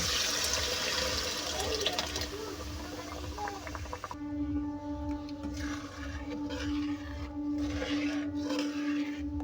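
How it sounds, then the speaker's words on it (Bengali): Warm water is poured into cooked masala in a pan, producing a gushing liquid rush with gurgling that shifts to a steadier bubbling simmer with a faint tonal hum, close and with no talk. "এবার আমি এর মধ্যে উষ্ণ গরম জল অ্যাড করব।"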